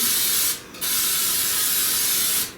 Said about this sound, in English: So let me spray this.